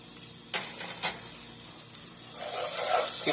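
Small diced onions and garlic sizzle in a hot pan, a close steady hiss with a couple of brief scraping stirs, the frying growing louder and more crackly toward the end.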